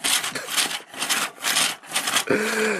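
The wheels of a toy Transformers truck, an MP-scale Optimus Prime figure, roll loudly across a surface in several close, rhythmic rasping passes. A short tonal whirr follows at the end.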